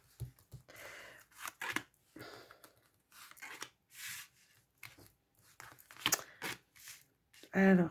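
Tarot cards reshuffled by hand in a reading, giving repeated short papery riffles and slaps in uneven bursts, close and moderately loud, with someone speaking between and over them.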